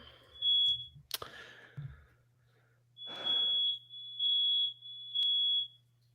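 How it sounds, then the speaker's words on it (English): A smoke detector chirps in several high, steady electronic beeps, some short and some held longer, fairly faint in a room with a low hum, while people talk briefly between the tones. "Smoke detector. Everything's fine here."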